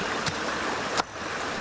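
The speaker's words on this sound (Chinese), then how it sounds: "这一处的溪水流速平缓" A gently flowing mountain stream in the Wuguishan hills of Zhongshan gives a steady, even rush of water with no voices, broken by two brief louder splashes.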